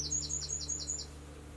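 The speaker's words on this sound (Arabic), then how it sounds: "العصافير تزقزق." Small birds chirp in a quick run of about six bright, evenly spaced tweets, fairly close and clear over a steady low hum, with no talking.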